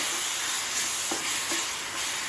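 Jaggery and grated coconut are stirred in a hot pan for sesame balls, producing a steady soft sizzle with a few scraping strokes of the spoon, close and moderately quiet, with no one talking.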